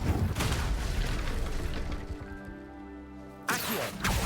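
Fiery spell effects from Confringo and Incendio in Hogwarts Legacy, loud rushing bursts of flame and blasts, with a brief tonal ringing lull before another sudden whoosh.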